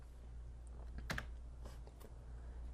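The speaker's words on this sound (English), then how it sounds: "hit the letter B on your keyboard to grab your Bezier pen" Computer keyboard keys clicking in Inkscape, a few faint, quick taps over a low background hum.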